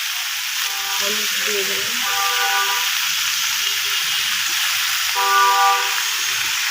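Diced aubergine and potato fry in oil in a pan on a gas stove, making a steady, close sizzle and hiss beneath someone speaking Bengali.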